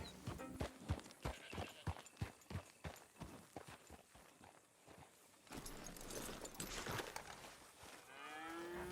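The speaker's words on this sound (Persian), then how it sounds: "به این منطقه بیایید تا بتونید گاو 3 ستاره پیدا کنید" Cattle mooing in the video game Red Dead Redemption 2, several low moos over a run of hoof clip-clops and footsteps, fairly faint, with no talk.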